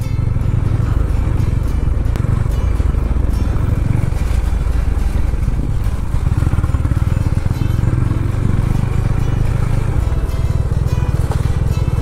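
Motorcycle ridden along a forest trail road, a loud continuous engine drone with wind rumble and road clatter, steady throughout and heard close from the rider's position.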